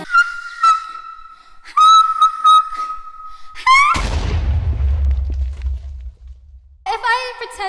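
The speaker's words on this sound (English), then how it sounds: "You want to hear me whistle?" A person whistles a tune in short, steady high notes, broken midway by a deep, loud boom that rumbles and fades before the whistling resumes.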